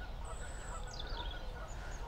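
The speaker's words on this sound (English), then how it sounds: "In the distance, I can hear all the birds." Geese honk faintly in the distance along a public footpath at Upton Warren, a steady murmur of far-off calls over a constant low rumble of ambient noise.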